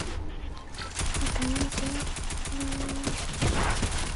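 SMG fire in a video game, dense rapid bursts of gunfire loud and close throughout, with a player talking over the shooting.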